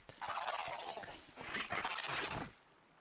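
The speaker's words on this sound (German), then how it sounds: "das ist so ein Hahn" A rooster crowing in the video game Horizon Zero Dawn, a loud, harsh, broken squawking call that lasts a few seconds and then cuts off.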